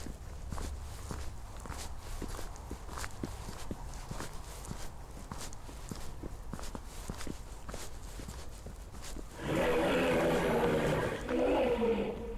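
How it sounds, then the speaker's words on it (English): A lion-like animal roar at night, heard at a distance after a run of steady rhythmic footsteps, rising as a coarse, growling blast near the end. "Man, that sounded like a lion."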